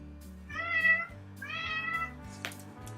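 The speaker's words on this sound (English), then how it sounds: "Sorry, that's my cat." A house cat meows twice in a row, close and clear, each call a drawn-out tonal cry, the second slightly longer, over a soft low indoor hum.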